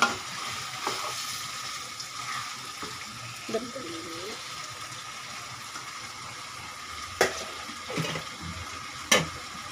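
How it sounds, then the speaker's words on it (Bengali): Chicken pieces fry alongside potatoes in a pan, giving a low steady sizzle broken by occasional scraping clinks of a spoon being stirred, with a brief faint murmur in the middle. "মুরগির মাংস দিচ্ছে।"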